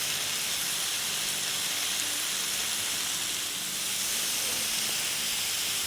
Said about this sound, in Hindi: और अब इसे थोड़ा बबल बबल हो जब तक पकने देंगे।